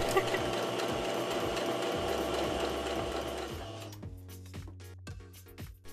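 Sewing machine stitching a tabi sock Christmas stocking, a steady motor whir with needle chatter that runs continuously, then slows into separate short bursts and ticks near the end.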